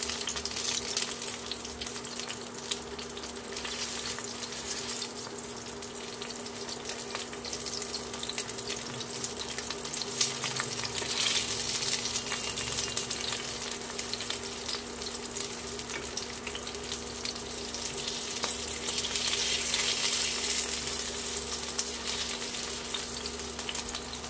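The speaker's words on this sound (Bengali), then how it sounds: "প্যাটিগুলো ভাজা হতে থাক।" Chicken patties frying in hot oil in a pan, a steady soft sizzle and crackle running continuously at moderate level with a faint background hum, no voices.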